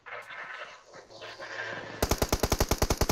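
Automatic gunfire in the mobile battle-royale game PUBG Mobile: after two seconds of quieter game ambience, a loud, rapid burst of evenly spaced shots rattles on close up until the end.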